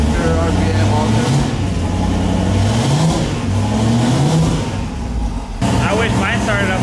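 Turbocharged LS-swapped Infiniti G35 idling loudly after start-up, a deep rumbling engine with rising and falling revs, close and continuous, with a voice talking over it.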